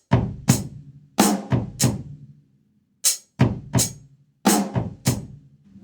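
Drum kit strikes in short bursts with kick drum fills, tracing a bridge pattern, close and punchy with decaying hits and brief silences between groups.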